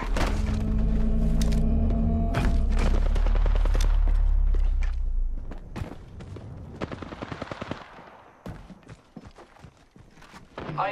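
Incoming gunfire in the video game Apex Legends: a loud, dense barrage of shots and impacts for several seconds, then thinning into scattered cracks, clicks and footstep-like taps amid quieter game noise.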